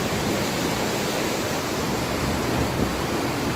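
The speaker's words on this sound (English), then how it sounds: "We had massive amounts of water coming through our system" Floodwater pours over a weir at a water treatment plant, a dense, loud and unbroken rushing roar that holds steady throughout, with no voices.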